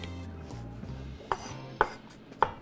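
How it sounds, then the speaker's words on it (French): A knife cuts through a leek on a cutting board in three sharp, evenly spaced chops, close and distinct, following a low background hum. "Là, je vais découper mon poireau."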